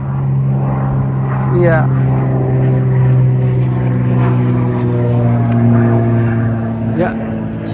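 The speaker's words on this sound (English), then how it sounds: "A plane." Propeller airplane droning overhead outdoors by a home, a steady low hum holding through the whole stretch with a brief voice on top.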